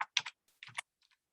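Keys tapped on a computer keyboard as an item reference is entered: a few quick, close clicks in two short bursts, then fainter taps, with no talking.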